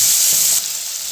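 Spice paste hits hot oil in a pan with a loud, bright, close sizzle that stays intense for about half a second, then settles into a slightly quieter steady hiss.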